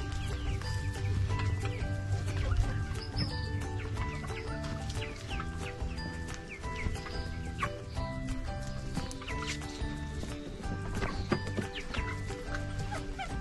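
Chickens cluck and murmur continuously nearby, a busy flock sound with scattered louder calls over a constant backdrop.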